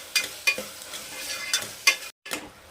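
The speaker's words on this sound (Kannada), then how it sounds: "ಇದನ್ನು ಅಷ್ಟೇ ಸ್ವಲ್ಪ ಫ್ರೈ ಮಾಡ್ಕೊಳ್ಳೋಣ ಒಗ್ಗರಣೆ ಒಳಗಡೆ" Soaked chana dal stirred and fried in a hot tempering in a pan, with several short scraping, sizzling bursts at an uneven rhythm, close and moderately loud, and no talking.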